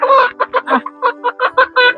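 Poultry-farm chickens cluck close by in a quick series of short, throaty bursts, loud and clear with no talking.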